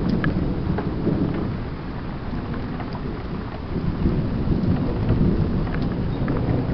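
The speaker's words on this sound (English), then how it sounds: "Nope, just a thunderstorm." A thunderstorm with heavy, steady rain and rolling thunder rumbling low throughout, loud and continuous, with no voices.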